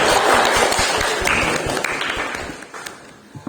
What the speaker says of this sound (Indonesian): tepuk tangan untuk Rezi ya